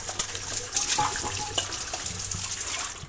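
Dishes washed at a sink under a running tap, a loud steady water stream with scattered clinks and scrapes of utensils and pots throughout, no talking.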